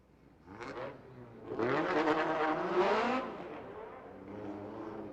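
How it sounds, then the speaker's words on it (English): A drift car warms its tires in a burnout box at a Lake Erie Speedway drift competition, its engine rising and revving at a distance, building to a sustained high drone before easing off. "Maxime going to go ahead and warm up his tires over there in the burnout box, making sure he burns that rubber real good"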